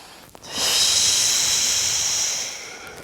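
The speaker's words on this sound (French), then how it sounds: "Inspire et expire." A single long, loud exhale hisses out through the mouth during an abdominal exercise, close and steady for about two seconds, with no talk over it.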